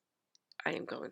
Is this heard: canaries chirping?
no